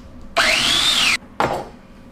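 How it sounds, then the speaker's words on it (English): A food processor chops spring onions and parsley finely: a close, loud motor whir rises in pitch for under a second, stops, then gives one shorter pulse. "add that into the processor and process it finely"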